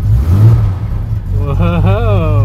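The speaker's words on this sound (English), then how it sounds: "Let's see if I can give it some rev" A car engine with an aftermarket wideband air-fuel sensor kit fitted revs up from a steady low idle into a rising, wavering drone, heard up close, with a voice calling out over it.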